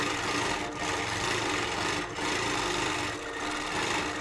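A sewing machine does free motion stitching on a quilt, a steady, loud, continuous rapid chatter with a couple of brief slowdowns, and no talking.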